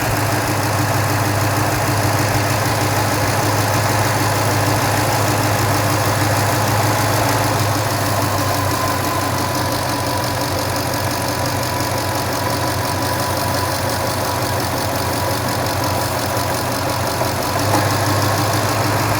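An old Toyota Tundra truck engine idles steadily and close by, with a constant low rumble whose revs rise and dip slightly as the air conditioning cycles on and off; no talking.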